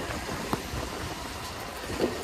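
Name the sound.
heavy rain pouring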